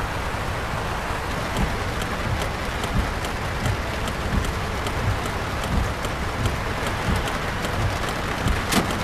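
Steady, dense patter of heavy video game rain filling the whole stretch at a constant loud level, with faint scattered clicks and no talking.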